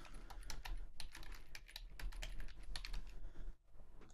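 Keys clatter rapidly and steadily on a computer keyboard as a password is typed, a dense run of close, crisp clicks with a brief pause near the end and no speech.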